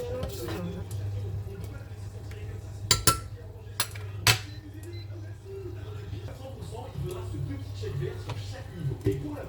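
Soup is stirred in a metal cooking pot during Ramadan meal preparation, with a spoon knocking and scraping against the pot in irregular clanks over a low steady hum, and speech at times.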